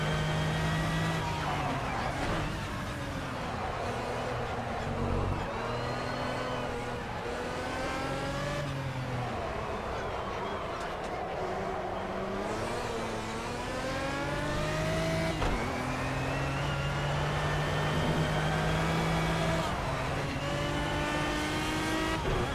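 Aston Martin race car in Project CARS, engine droning and revving continuously through gear changes with rising and falling pitch, tires audible underneath, loud and close throughout.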